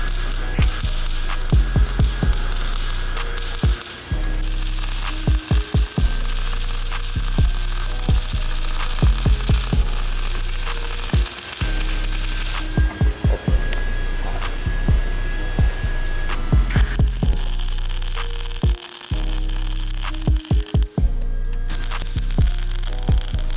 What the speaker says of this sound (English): He's gonna start welding for me because he's a really good welder.